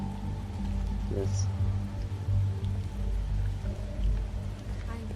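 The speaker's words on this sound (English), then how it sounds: "It's raining." Steady rain falls in the video game The Wolf Among Us, a continuous soft patter beneath a low ambient drone, with a single brief spoken word.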